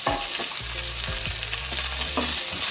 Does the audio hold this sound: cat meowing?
no